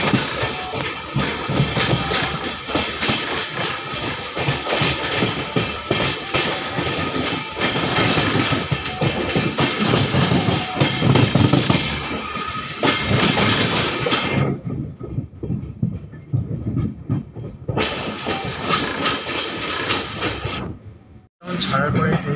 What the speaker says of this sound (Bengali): ছাড়ার পরে ট্রেন নিয়েছে স্পিড, আর এখন মালদা টাউন পার করে ট্রেন এখন আসছে মহানন্দা ব্রিজে।